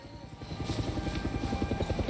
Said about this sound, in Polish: Może helikopterem tym razem wyruszymy.